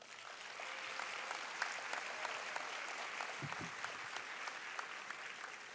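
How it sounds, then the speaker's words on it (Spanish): Audience applause at the closing ceremony of a university conference in Peru, a sustained, even patter of many hands clapping, moderately distant and soft, with a few sharper claps standing out. "Un aplauso, por favor."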